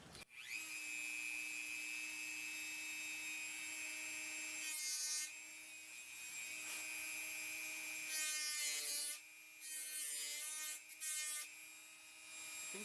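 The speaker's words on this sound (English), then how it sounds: "I've got a new cut-off wheel on the Dremel" A Dremel fitted with a new cut-off wheel runs at a fairly low speed setting, a steady high whine that turns harsher in short bursts as it bites into a sign, with no voices.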